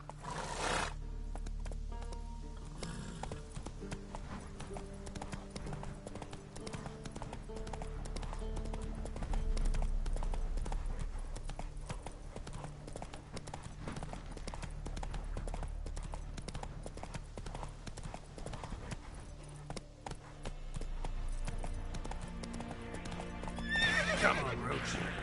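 A horse galloping in the video game The Witcher 3, its steady clip-clop hoofbeats running continuously for the whole stretch under game music, with a neigh near the start and again near the end.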